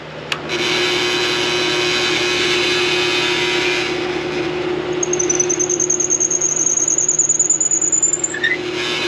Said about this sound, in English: I'm just going to use the same drill bit to drill this oak.